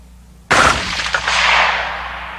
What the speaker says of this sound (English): Okay, here's a 223 with a suppressor.